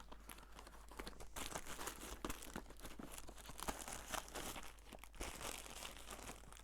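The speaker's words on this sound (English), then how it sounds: "It's a crinkly bag," A crinkly plastic bag being handled for a journal project, giving continuous close, quiet crinkling and rustling with irregular crackly bursts throughout, no voices.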